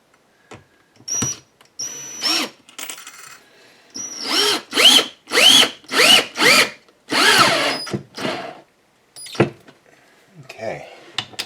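A handheld power tool drives and tightens the mounting bolts of a Harbor Freight bench vise, running in a series of short whirring bursts with pauses between, loud and close, with someone speaking briefly in the gaps.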